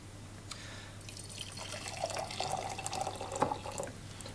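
Test tube of food sample and Benedict's solution set into a hot water bath of recently boiled kettle water, giving small drips, trickles and light glassy taps over a steady low hum, fairly close, with no talking.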